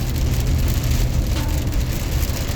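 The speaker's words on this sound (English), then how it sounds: "But had some pretty big raindrops." Heavy rain with big drops falls steadily near a wildlife refuge trip in Arkansas, a loud, dense, unbroken hiss and patter filling the whole stretch with no voices.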